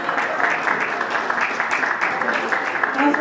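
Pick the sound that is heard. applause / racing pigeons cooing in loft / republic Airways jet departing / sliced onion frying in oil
applause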